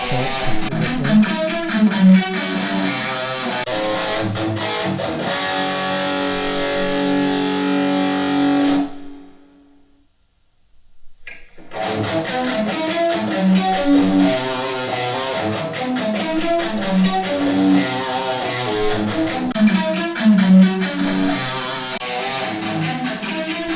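A mixed music track in a studio plays with chamber reverb added, a dense full-band sound that stops briefly around the middle, leaving a short silence before the track resumes, with no talking.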